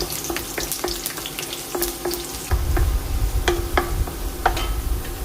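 Garlic sizzles in coconut oil in a pan, a steady crackling fry punctuated by sharp utensil taps and scrapes, with a deeper rumbling bubble joining midway; close and moderately loud, no talking.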